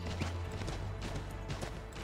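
Horse hooves clop in the video game Assassin's Creed 3 as a steady, loud rhythm of hoofbeats over constant background game noise.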